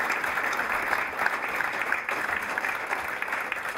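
An indoor audience at an awards ceremony gives dense, steady applause, a full room of clapping hands sustained evenly throughout without speech.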